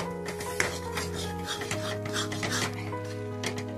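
A spoon working wheat flour through boiling seasoned water for ukadpendi, with a steady scraping and stirring rub against the pot, close and continuous over a low kitchen hum.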